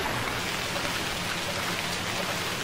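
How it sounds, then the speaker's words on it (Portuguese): Steady, dense rain falling in the survival video game Stranded Deep, a loud even hiss of drops with no voices over it. "Mas eu vou falar mais alto porque tá chovendo"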